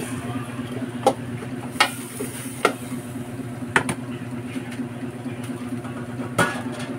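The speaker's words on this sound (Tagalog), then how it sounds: "Halo muna, halo." Boiled pork ribs being stirred in coconut milk in a pan, a continuous low simmering hum with several sharp spoon-on-pan clacks spaced every second or so, no talk.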